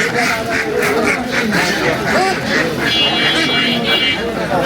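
Several Chinese ducks quack in a busy, overlapping chorus close by at a duck market, with people talking over the noisy flock throughout.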